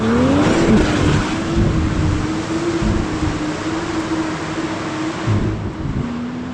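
A 2025 Aston Martin Vanquish's 5.2-litre twin-turbo V12 drones steadily, its pitch rising and falling slightly as it revs, loud and close, with no talking.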